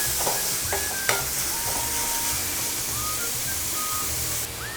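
Onions sizzling in a pan for pepper chicken, a steady close frying hiss with scattered scrapes and clinks of a stirring utensil, no voices.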